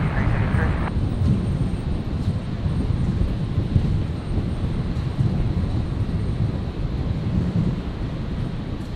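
A Velocity airliner landing on runway 01 right at Brisbane Airport roars as a loud, steady broadband rumble with wind buffeting, heard from a distance and unbroken throughout.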